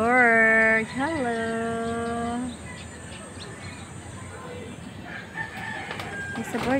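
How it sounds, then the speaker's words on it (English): A rooster crows loudly and close by in one long, drawn-out call that ends after a couple of seconds, followed by quieter outdoor ambience, a few soft bird sounds and brief voices. "It's a bird, anak."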